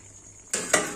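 A metal cooking pot of spicy bachha fish curry is lifted off a stove, giving two close clanks of metal on metal, the second one sharper, each followed by a short ringing decay over a faint background hum.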